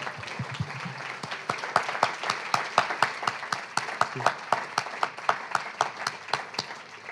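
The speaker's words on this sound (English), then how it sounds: "One more big round of applause for Brandon Som." A modest audience at a festival poetry reading claps after the poet finishes, with individual hand claps standing out as sharp, distinct, fairly regular smacks rather than a dense roar, continuing steadily for about seven seconds.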